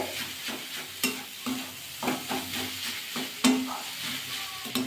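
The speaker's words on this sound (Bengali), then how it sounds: "ধরুন আমি অনবরত কিন্তু নাড়াচাড়া করছি গুড়টাও কিন্তু মিশে যাচ্ছে" Melting jaggery being stirred in a pan for pithe, with scraping spoon strokes at a steady rhythm over a low, continuous sizzle, close and moderately quiet.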